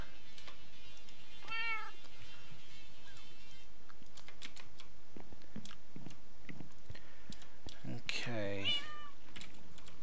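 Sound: cat meowing in video game Modern Skyblock 2

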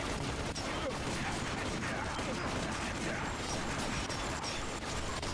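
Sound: gunfire in Binary Domain video game

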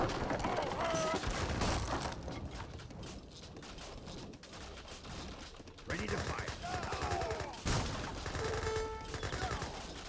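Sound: Gatling guns firing in Age of Empires 3 video game

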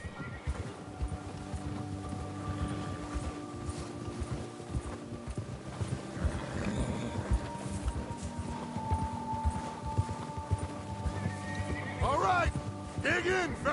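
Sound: horses galloping in Red Dead Redemption 2 video game

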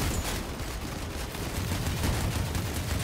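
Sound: autocannon gunfire in the video game Crossout

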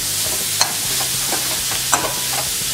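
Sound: stirring grated ridge gourd into fried onion and spices

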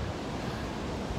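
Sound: wind at seaside pier

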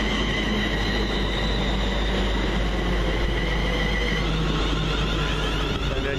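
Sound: London Midland passenger train arriving at Hemel Hempstead station

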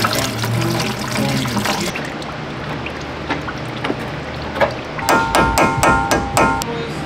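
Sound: fluid pouring out of car after removing drain cap

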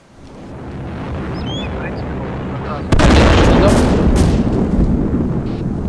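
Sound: explosion in the video game ArmA 2

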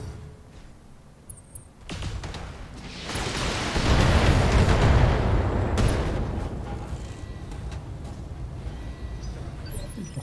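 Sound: mech weapons firing in BattleTech video game

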